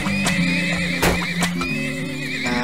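Horses neighing and whinnying in the oil-drilling game Turmoil, several loud overlapping calls over steady background game music, with brief sharp effect bursts.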